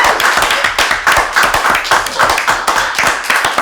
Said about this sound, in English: Let's give him a round of applause, Paul Gregory,